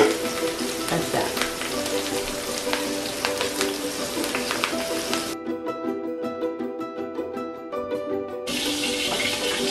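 Pork chops seasoned with thyme sizzle steadily in a pan, a close, continuous frying hiss broken by a short quieter gap before the crackle returns at full strength.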